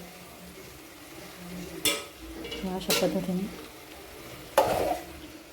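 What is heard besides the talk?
drumstick pods stirred in sizzling tempering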